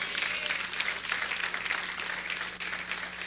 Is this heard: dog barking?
no